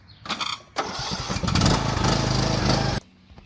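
A lawn mower engine cranks with a short burst, catches and roars steadily at close range for a couple of seconds before cutting off abruptly.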